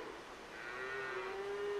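Cattle low out during a cattle drive stalled at a river, a single sustained moo rising and holding steady, fairly close and clear over quiet outdoor ambience.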